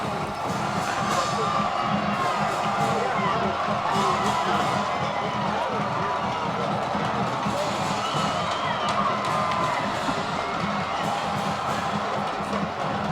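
A high school football crowd at a playoff game roars continuously, with sustained cheering, shouts and whoops from a packed stand and thunder sticks banging underneath.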